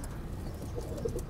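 Pigeons coo softly in a loft, a few low, murmuring calls rising over steady background noise.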